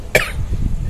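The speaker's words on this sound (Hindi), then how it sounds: "अभी भी बहुत जोर से खांसी" A single sharp cough from a woman who is ill with a cold and phlegm, close and loud, followed by low muffled background rumble and no speech.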